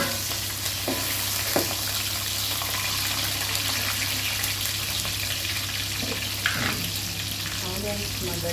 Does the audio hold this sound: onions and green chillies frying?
yes